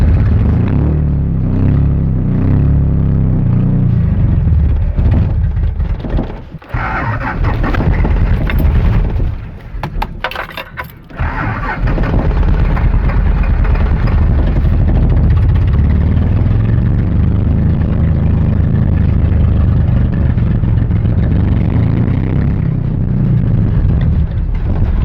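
A 1982 Toyota Celica Supra engine that struggles to idle and may have its timing off runs loudly up close with a deep rumble. It revs unevenly and sags briefly midway before picking back up to a steady, rough running note.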